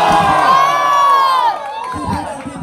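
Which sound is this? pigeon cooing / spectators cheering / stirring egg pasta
spectators cheering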